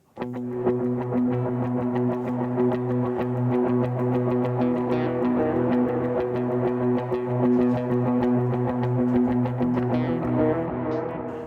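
An electric guitar with effects plays a picked pattern of ringing, sustained notes over a held chord, steady and close, with no talking.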